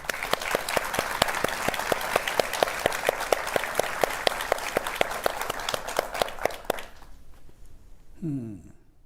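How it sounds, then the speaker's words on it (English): A live gardening show audience claps for a guest, a close, lively patter of many hands with sharp individual claps standing out, fading out near the end before a brief voice. "So a round of applause for Sarah."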